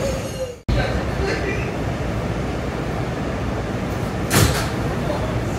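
Sliding doors on a new R211S Staten Island Railway local train thud shut after a brief pause, followed by steady interior rumble and a short hiss-like burst a few seconds later.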